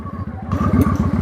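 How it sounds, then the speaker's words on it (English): Motorcycle engine running in first gear, a close, loud throbbing idle with a rapid steady pulse that swells slightly as the bike pulls away. "I'm in first gear, pull in the clutch, and if I let the clutch out, it moves like that"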